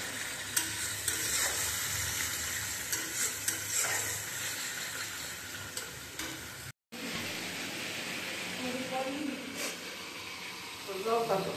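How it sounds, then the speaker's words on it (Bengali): Marinated meat is stir-fried with spices in hot oil for biryani, giving a steady sizzle and hiss with occasional stirring scrapes, while a person talks over the cooking. "আর এদিকে মাংস কষানো হচ্ছে মশলা"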